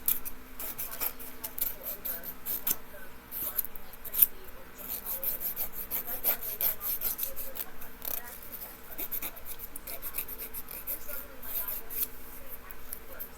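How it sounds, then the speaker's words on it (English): A nail file rasps back and forth against the rough edges of clipped press-on fake nails, a quiet close scratching in repeated short strokes with occasional light clicks. "Now I'm going to just file off any rough edges from where I've been whacking at them with the clippers."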